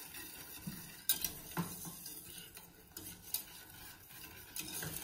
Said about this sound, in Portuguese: agora é só ir mexendo até levantar fervura